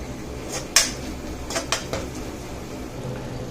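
Roasted peanuts go into an ivy gourd stir-fry in a pan, bringing a few sharp metallic clinks and scrapes of a spoon against the pan over a steady background hiss, with no talk.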